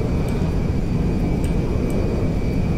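Constant engine drone of a Boeing 747 jumbo jet in Grand Theft Auto V, a steady broadband roar with a faint high whine, unbroken throughout.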